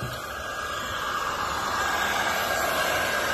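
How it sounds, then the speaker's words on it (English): An industrial heat gun, used like a hair dryer, blows a steady, close, loud whooshing roar of hot air onto an adhesive sticker strip on a bus, with no voices. "it's basically an industrial hair dryer. Gets it nice and hot and warms everything up."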